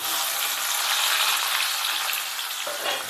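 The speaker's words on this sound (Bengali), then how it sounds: "তো চলো পেঁয়াজগুলো আগে কড়াইয়ে দিয়ে দিই।" Sliced onions hit hot oil in a wok and produce a loud, dense, continuous sizzle up close that eases slightly toward the end, with no talking.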